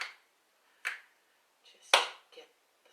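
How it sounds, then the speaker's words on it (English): Slow, sparse finger snaps and claps during a stretch-and-strengthen exercise session, four or five crisp sharp hits spaced about a second apart, close and dry with quiet gaps between. "Got some slow snap claps today."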